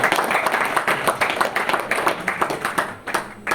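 Audience clapping in a hall during a Hindi-language health talk, a steady patter of many hands at moderate level that thins and dips briefly near the end.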